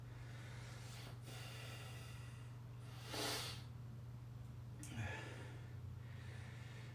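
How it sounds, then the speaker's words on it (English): Heavy breathing follows weight lifting, with two or three slow, breathy exhales rising over a steady low electrical hum. The breaths are faint and spaced a couple of seconds apart. "you can probably hear I'm breathing a little heavier"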